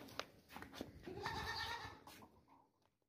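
A dairy goat bleats loudly and close by, a long wavering call with a few shorter bursts around it, and no talking.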